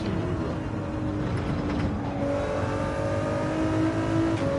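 A Ford GT engine revs in the Gran Turismo 7 racing game, a steady, full motor drone whose pitch climbs partway through and holds for several seconds, with no talking.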